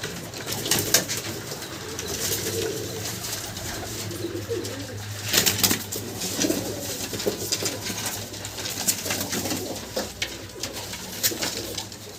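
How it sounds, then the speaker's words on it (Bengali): Pigeons coo repeatedly among a flock, with soft overlapping calls over a constant background hum, close by and continuous, with no talking. "পায়রাগুলো দেখাচ্ছি পরপর।"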